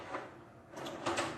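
A kitchen drawer slides open and shut with a few soft wooden knocks and scrapes, quiet and close, before a fork is grabbed.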